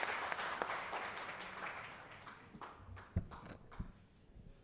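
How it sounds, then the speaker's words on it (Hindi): Scattered audience clapping at a youth anti-drug event in India, fairly faint and fading over a few seconds, with a handful of sharper isolated claps near the end. "एक बार जोरदार तालियां संजय मयूख जी के लिए"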